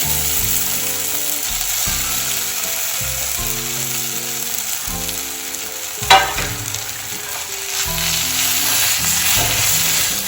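Cooked plantain sizzling in hot oil with asafoetida in a pan as a Tamil Nadu dish is prepared, a loud continuous fry with rhythmic scraping stirs and one sharp clink midway.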